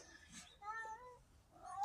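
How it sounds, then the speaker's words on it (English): A domestic cat meows several times up close, in short separate calls with rising and falling pitch, quiet and indoors with no talk over them. "It's my kitty"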